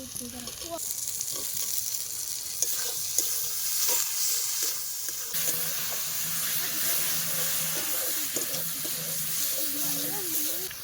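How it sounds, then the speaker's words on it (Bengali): Masala is being stir-fried in a pan with slit green chilies, coriander leaves and tomato at an outdoor winter-night picnic, giving a steady sizzle with scraping stirs up close while voices talk faintly in the background. "মশলাটা কিন্তু ভালোভাবে কষিয়ে করবো"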